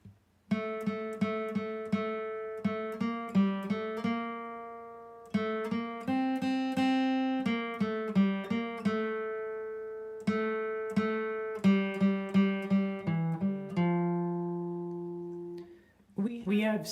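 A guitar picks out the melody of Jana Gana Mana as clean single notes in a steady rhythm, with some notes repeated, a few pauses, and a short sound at the end.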